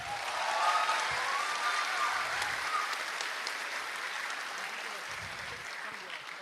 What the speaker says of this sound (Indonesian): Yang lagi marah boleh tepuk tangan.